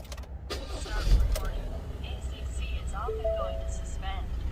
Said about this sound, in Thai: ทำการสตาร์ทเครื่องครับผม